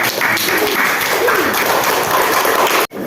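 An audience at a school presentation on making compost breaks into dense, sustained applause, loud and close, which stops abruptly at the end.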